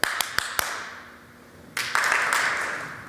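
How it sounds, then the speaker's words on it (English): A synagogue congregation claps at a Shabbat evening service: four sharp claps in a quick rhythm, a short pause, then a denser burst of clapping that gradually fades. "But nothing will work if you won't clap your hands."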